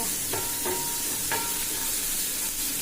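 Tomatoes and onions sauté with dried fish in a pan, a steady close hiss of frying with three soft stirring knocks early on and no voices.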